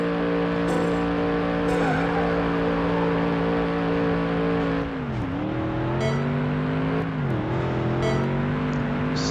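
Race cars in a racing video game, including a Corvette C5R and a Ford GT, roar with steady loud engine drone, pitch dipping and climbing again through gear shifts and braking, with faint tire squeal.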